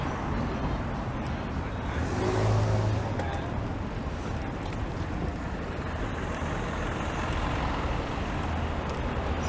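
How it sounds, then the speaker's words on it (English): Steady roar of dense road traffic on a downtown Toronto street near Union Station, with trucks, cars and buses rumbling past close by, a brief louder swell and a hiss like an air brake midway. "Hello, wall of traffic."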